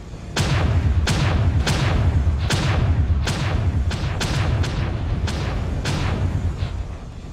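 C4 explosions in an online mech combat video game, a rapid series of about ten loud booming blasts with sharp attacks and rumbling tails, close and dominant, with no talk.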